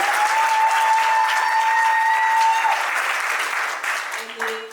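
Guests at a civil wedding applaud strongly as a bride is introduced. A sustained high tone rides over the loud, continuous clapping for a few seconds, and the applause then begins to ebb.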